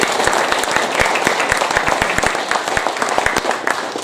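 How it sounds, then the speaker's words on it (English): Applause at a political party conference, a close, moderately loud crowd clapping with distinct individual handclaps popping out in an uneven rhythm for several seconds. "a big round of applause for Jake."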